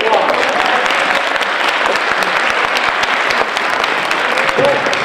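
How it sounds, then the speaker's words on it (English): A roomful of people applauds at a college talk, loud dense clapping sustained evenly throughout, close and full, with faint crowd murmur underneath. "give him a round of applause."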